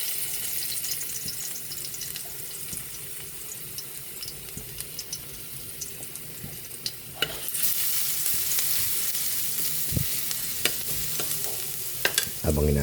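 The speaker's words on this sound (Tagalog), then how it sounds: "Magigisa na po tayo para sa ating ginataang kalabasa." Garlic sautéing in a pan for ginataang kalabasa, a steady frying sizzle with stirring scrapes and a few sharp utensil knocks, close and continuous with no talk.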